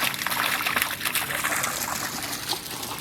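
A pond fountain's water trickles and splashes steadily, a continuous bright babbling with small irregular splatters throughout, close by and fairly loud.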